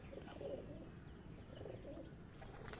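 Pigeons of a Sialkoti and Ferozpuri mixed breed coo in soft, low repeated phrases over steady background noise, with a brief chirp near the end.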